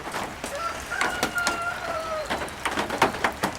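A rooster crows outdoors on a rainy, humid farm, a drawn-out call rising and falling near the listener, with other bird chirps and clucks scattered around it and no talking.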